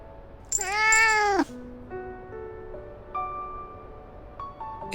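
A cartoon cat meows once in the Love and Deepspace video game, a loud, drawn-out, slightly wavering cry lasting about a second, followed by soft melodic game chimes and music tones in the background.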